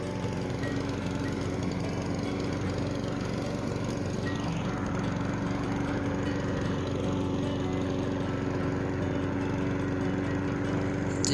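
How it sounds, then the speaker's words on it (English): A small Honda lawnmower engine runs at a steady idle throughout, a continuous low mechanical drone with no pauses and no one speaking. "This little Honda lawnmower is pretty cool."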